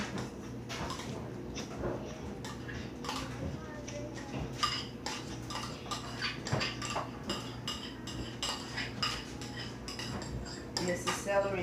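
A seafood dressing is mixed in a bowl: a utensil clinks and scrapes against it again and again at close range in a quick uneven rhythm, with a person talking throughout.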